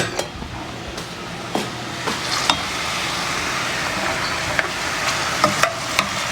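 A shrimp cake mixture with onion and salt fries steadily in a pan, giving a continuous crackling sizzle with occasional sharper pops and light stirring scrapes, close by with no talking.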